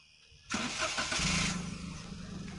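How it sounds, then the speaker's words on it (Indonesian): A 2015 Toyota Agya engine cranks and catches with a loud burst, then settles into a steady idle for the remaining couple of seconds, close by with no talking. "langkah pertama kita akan coba hidupkan kendaraan ini."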